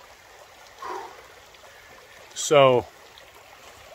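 A mountain stream in the Appalachians flows with a steady, soft rush under the whole stretch, with a brief spoken word partway through.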